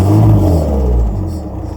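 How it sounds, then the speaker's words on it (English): A Volkswagen Jetta MK5 TDI diesel engine revs with a rowdy knock, a loud close rumble that swells and then settles slightly as it runs on alone. "And then you have a rowdy knock just like this."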